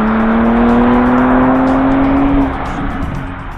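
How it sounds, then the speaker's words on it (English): A Porsche Panamera Sport Turismo E-Hybrid launches hard under launch control, its engine note rising in a loud steady pitch climb that drops off as it shifts, with wind and road noise beneath. "hit the launch control feature and we are propelled"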